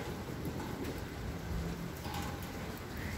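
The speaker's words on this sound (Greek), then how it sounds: "Να δούμε λίγο τις βροντές" Steady rain pours during a strong thunderstorm in Athens, with low rumbles of thunder rolling beneath the constant hiss of falling water.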